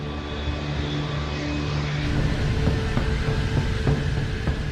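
Boeing 747 jet airliner climbing after takeoff, a steady, loud engine roar with a low droning hum that swells slightly midway and continues throughout without any talk.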